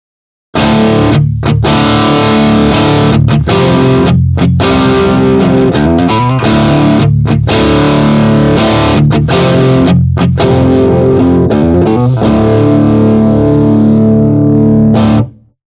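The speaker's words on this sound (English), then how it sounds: "So that's for the distorted guitar." Distorted electric guitar played through an impulse response loader for cabinet simulation: loud, sustained, heavily saturated chords with short rhythmic gaps and choppy palm-muted bursts, running continuously for about fifteen seconds with no voices.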